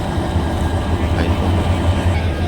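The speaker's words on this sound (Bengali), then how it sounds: "ময়মনসিংহ যাচ্ছি লোকাল ট্রেনে।" Interior of a local train in motion gives a steady low rumble with constant broadband clatter, loud and close throughout.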